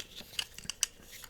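Spring-loaded hands-free scissors make a handful of crisp, quick snips, each a short sharp click, close and fairly quiet with no voices.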